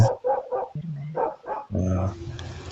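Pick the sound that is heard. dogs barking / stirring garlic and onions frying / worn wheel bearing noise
dogs barking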